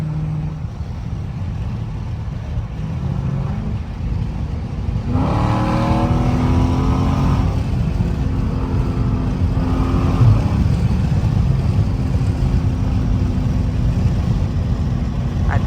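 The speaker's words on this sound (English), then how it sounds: "at least y'all get to hear my catless Dodge Challenger" A catless 392 Dodge Challenger Scat Pack V8 idles with a deep burbling rumble, then revs up partway through and holds a loud, rough, throaty growl, heard up close with no talking.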